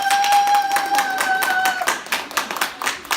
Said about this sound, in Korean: 자기 자신한테 박수 한번 쳐주세요.